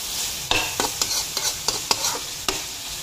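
A spoon stirs tomato and cabbage in a frying pan, about eight sharp scraping strokes in an uneven rhythm over a soft sizzle, close and clear.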